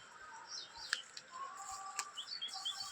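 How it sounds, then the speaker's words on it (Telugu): Small birds and parrots feeding in a custard apple tree on a foggy morning chirp and tweet in scattered short calls, faint and somewhat distant over a quiet background. "పిట్టెలు తినేస్తున్నాయి, చిలుకలు తినేస్తున్నాయి."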